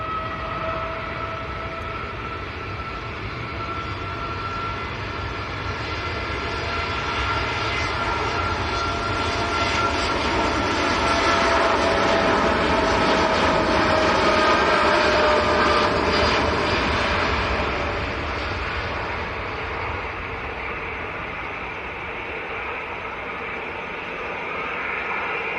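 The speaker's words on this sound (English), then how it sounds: "Right, here we go, TUI Dreamliner to Cape Verde." A TUI Boeing 787 Dreamliner takes off at Manchester Airport, its jet engines building into a broad, loud roar that peaks mid-way and then slowly recedes, heard from a distance and alone without talk.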